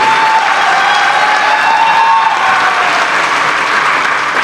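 Loud, dense, sustained applause from a large audience at a regional party IT wing consultation meeting in Chennai, an unbroken wash of clapping with a faint tonal whine threaded through it.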